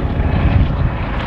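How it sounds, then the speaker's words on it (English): Rescue helicopter passing over ski slopes in Tirol mountains, a steady broad rotor and engine rumble with wind noise, continuous and fairly loud throughout with no speech. "Rescue helicopter coming by."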